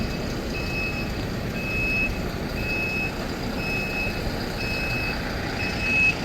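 A bus pulls into a busy central bus stand at night, its reversing beeps repeating at a steady even rhythm over a loud continuous rumble of engines and traffic.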